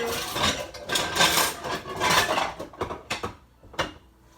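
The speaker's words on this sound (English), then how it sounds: "a frying pan as my lid" Metal cookware clanks and scrapes as an old frying pan is handled as a lid on a pot of bone broth, a run of rustling knocks followed by several sharp, separate clinks.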